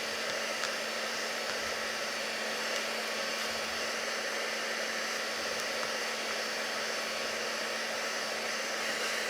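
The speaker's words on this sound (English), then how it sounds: "you can dry it with a heat tool very, very easily" A heat tool blows steadily while drying dye on a craft project, a constant loud whooshing hum with a faint tonal whine, unbroken and close, no voices.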